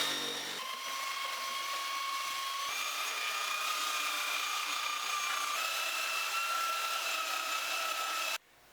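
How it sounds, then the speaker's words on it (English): Power sander working over a wooden pallet chair, a continuous high whine with a shifting tone that runs for several seconds at moderate level, then cuts off abruptly. "Sand it down a little bit."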